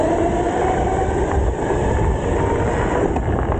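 A modded 72V electric Razor pit bike in its most sensitive throttle mode sets off, with a loud continuous rumble and whirring drone, wind buffeting and rough rolling noise sustained throughout.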